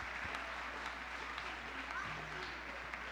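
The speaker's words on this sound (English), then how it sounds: "Give them a round of applause." Faint, steady clapping from an audience at a gathering, a soft even patter heard from a distance with some low murmuring beneath it.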